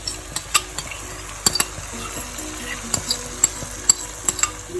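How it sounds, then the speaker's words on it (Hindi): Chicken frying in masala with whisked yogurt, a low steady sizzle broken by frequent sharp clicks and scrapes of a spoon against the pot, close and without speech. "योगर्ट डाल के तो थोड़ी देर के लिए और भूनना है"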